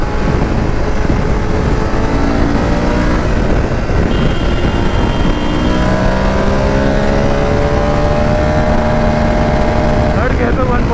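A BMW F850 GSA motorcycle accelerating hard in third gear, a loud continuous engine roar with rushing wind and steadily rising pitch.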